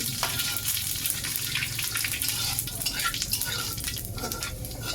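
Potatoes sizzle and fry in a pan for a home-cooked birthday meal while being stirred, a steady close hiss with scraping stirs running throughout and no voices.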